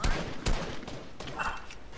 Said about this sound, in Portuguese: tá dando tiro na gente de sniper